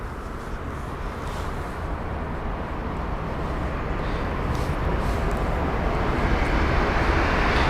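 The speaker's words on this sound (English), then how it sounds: "Oh, what's rushing there? It's a Virgin Atlantic 787 heading to runway 27 left by the looks of it." Virgin Atlantic Boeing 787 airliner heading to runway 27 left at London Heathrow, a broad steady jet rush that slowly grows louder over several seconds, heard from a distance with no talk.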